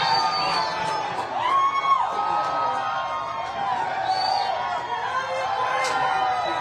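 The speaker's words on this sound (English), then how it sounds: "You can hear the crowd outside." A crowd gathered outside the California GOP fall convention cheers and whoops as President Donald Trump arrives, a continuous hubbub with shouts rising and falling, heard under someone talking nearby.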